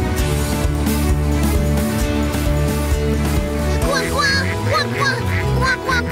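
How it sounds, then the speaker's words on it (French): A cartoon duck quacks in a quick series of nasal calls over a busy animated soundtrack with music playing throughout. "je me demande si ton canard n'a pas flairé un danger"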